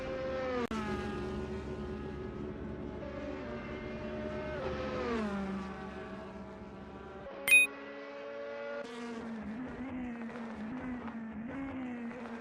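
A DTM race car in a sim racing game drives through Stanek, its engine note rising and falling through gear changes with a brief sharp click midway, loud and steady with no talk.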